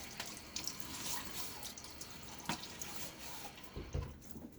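Cold hard water runs steadily from a tap into a sink while preparing to shave, a continuous hiss with a few splashy drips and knocks toward the end.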